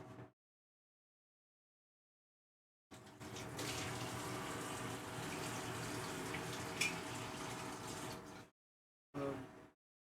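Tap water runs steadily for about five and a half seconds as a continuous broadband rush, then stops, followed by a brief second splash; the room is otherwise silent.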